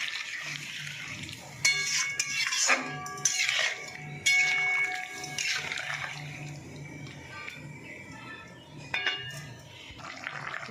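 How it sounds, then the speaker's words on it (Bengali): Water pours into a pan of mustard hilsa fish curry, a splashing, gurgling rush in bursts with some clinks, fairly close, with the sounds of a kitchen around it. "তো বন্ধুরা, আমি জল ঢেলে দিয়েছি।"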